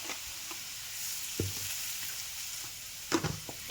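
Potatoes frying in a pan make a soft, steady sizzle at low volume, broken by a few sharp scraping knocks as a utensil stirs them, with no voices.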